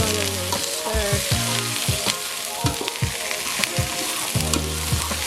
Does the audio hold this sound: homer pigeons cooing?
no